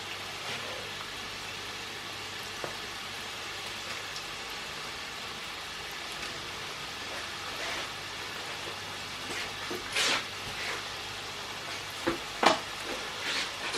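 Chips fry in hot oil with a soft, continuous bubbling sizzle, fairly quiet and steady, broken near the end by a few sharp clinks and scrapes of a utensil.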